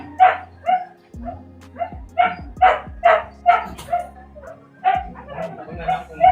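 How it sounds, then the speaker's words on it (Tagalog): An angry dog barks repeatedly in sharp, loud bursts with some yelping, close by, over a low steady hum. "Nagagalit yung aso."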